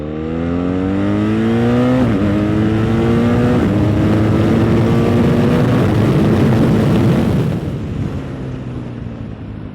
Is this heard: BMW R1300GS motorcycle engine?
yes